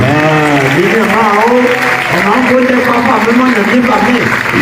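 A congregation at a Christian worship gathering in Bouaké, Côte d'Ivoire, claps and acclaims loudly, with dense applause blended with shouting and singing voices throughout.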